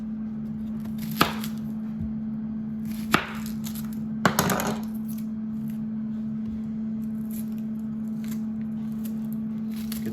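Garden-grown onion is cut on a board: three separate sharp chops spaced over several seconds, then a brief cluster of cutting noise, over a steady low hum, with no talking.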